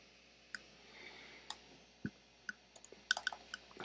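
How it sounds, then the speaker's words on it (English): Soft, quick keystrokes on a computer keyboard, scattered irregular taps that cluster into a faster burst toward the end, close and quiet with no talking. "I'm gonna type here"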